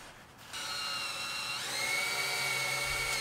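A power tool, likely a drill or driver, spins up to bolt a strap hook onto a dirt bike trailer, giving a steady high whine that rises in pitch partway through and holds.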